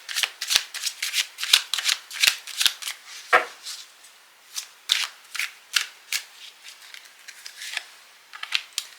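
Oracle cards are shuffled by hand in quick bursts of crisp, papery riffling and soft flicking, close up with short pauses between runs.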